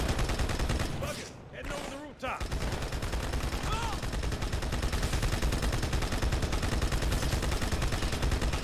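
Dense, continuous enemy gunfire pours in during a Halo 2 firefight, with rapid automatic bursts filling the whole stretch except for a brief dip. A player speaks over the shooting.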